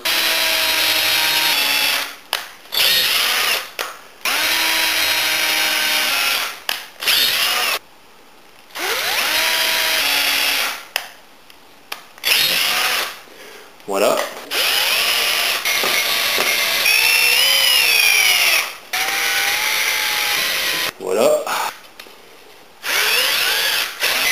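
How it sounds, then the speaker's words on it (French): A power drill pre-drills wood for a raised garden bed, with several loud bursts of drilling that whine up and down in pitch, separated by short pauses and quiet gaps, no talking. "je vais faire un préperçage juste à côté, à peu près à 5 cm"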